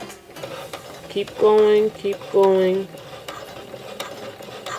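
A sewing machine stitching in a zipper on a dress bodice runs in two short, whirring bursts of about half a second each, close and clear, with a brief spoken remark nearby.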